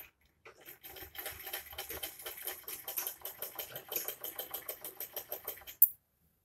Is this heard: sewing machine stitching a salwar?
yes